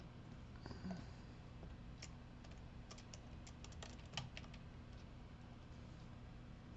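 Quiet, rapid clicking of computer keyboard keys during photo editing, a brief burst of keystrokes in a hushed room.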